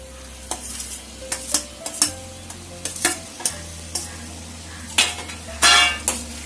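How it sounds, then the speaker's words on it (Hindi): Boiled potatoes tumble into a pan of spiced aloo sabzi and get stirred, with repeated sharp scrapes and clinks of a spoon against the metal pan over a low sizzle, close and fairly loud. "अब हम उबले हुए आलू डालेंगे।"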